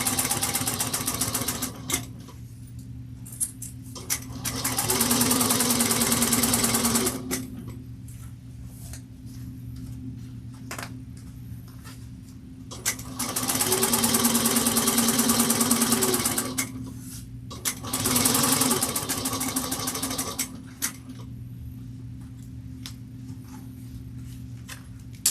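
Sewing machine back stitching a bowler bag pattern runs in three loud, steady whirring bursts of rapid needle ticks, separated by quieter stretches of a low motor hum and faint clicks.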